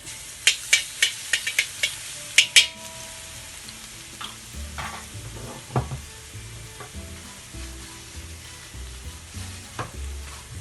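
Minced garlic frying in a pan for spring roll filling, opening with a quick run of sharp utensil taps against the pan, then a low continuous sizzle with scattered scrapes and stirring knocks, close-up and without speech.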